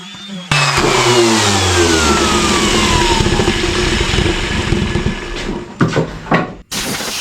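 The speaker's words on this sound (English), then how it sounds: "And I'm going to cut it with a 45-degree bevel." A power saw cutting a pallet wood board at a 45-degree bevel in a woodshop: a loud motor roar kicks in abruptly, whines steadily through the cut, then shifts and winds down, heard alone up close.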